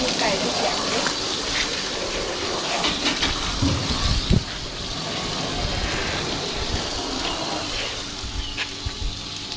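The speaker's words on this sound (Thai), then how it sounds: "หลังจากที่เราล้างฟองเสร็จแล้วเราจะมาล้างน้ำออกกัน" Water gushing and splashing as soap foam is rinsed off, a continuous rushing flow with intermittent splashes and knocks, with a voice talking over it.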